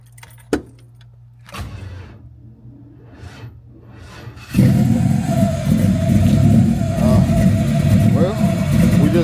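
A G-body car's engine catches on a cold start at about 4.5 seconds and runs loud and steady with a rising rev, after a few quieter cranking attempts and rustling noises.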